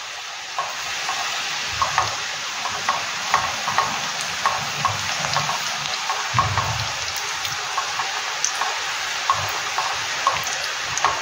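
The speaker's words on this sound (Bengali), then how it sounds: "এখন দিয়েছি, এর জন্য এখন একটু বাবল এসছে। যেই এগুলো একটু ভাজা হয়ে যাবে তখনই আস্তে আস্তে ওপরে উঠে যাবে।" Nimki, a maida-dough snack, frying in hot oil with steady bubbling hiss and many small crackling pops scattered throughout, up close and fairly loud, with no speech.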